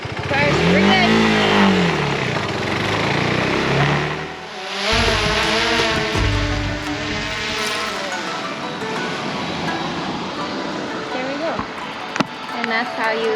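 Cars on a road in Taiwan passing a rider filming with a drone, a loud engine rush rising and sweeping by in the opening seconds, then fading into steady traffic noise and wind.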